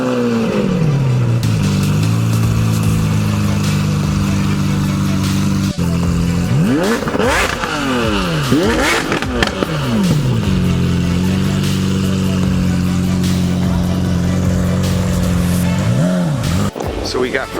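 Loud exhaust from a Lamborghini SV Roadster, engine note climbing and dropping through revs with sharp rising sweeps at a car meet, close and sustained, with people talking over it.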